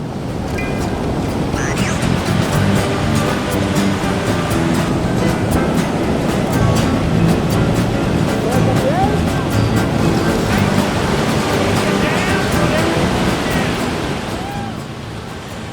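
Whitewater rafting through waves and rapids: loud, constant rushing and churning water with splashes and wind buffeting close to the microphone, a dense roar that swells and holds for the whole stretch before easing slightly at the end.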